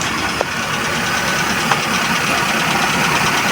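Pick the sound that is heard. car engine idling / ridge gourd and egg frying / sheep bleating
car engine idling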